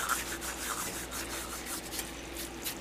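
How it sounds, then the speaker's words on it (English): A pinch of dried basil rubbed between the palms over a creamy Cajun sauce, giving a close, soft, continuous dry rustling friction that carries on steadily with no speech. "take a small pinch of basil, rub it with your palm"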